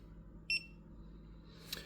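Viper two-way alarm remote emitting one short, bright electronic beep after its lock button is pressed, followed by a fainter chirp; quiet room, no talking.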